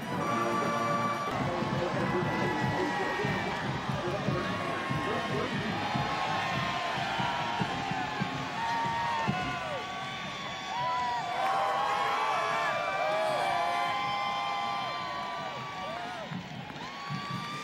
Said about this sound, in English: The crowd very enthusiastic as always here.